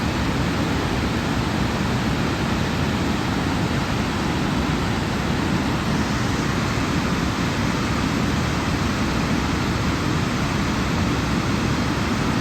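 A waterfall beside a restaurant in the Catskills gives a constant, broad rushing hiss that holds steady and even throughout, with no voices.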